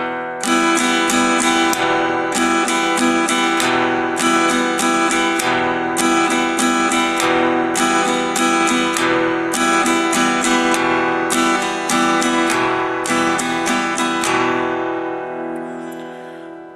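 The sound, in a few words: guitar strumming pattern played slowly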